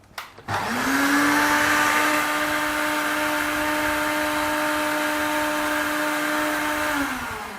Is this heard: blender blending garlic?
yes